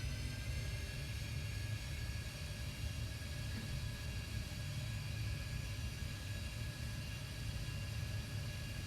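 Airliner engines spool up on a takeoff roll from runway 27 in a flight simulator game, a steady, loud low rumble with a faint whine layered over it and no talking.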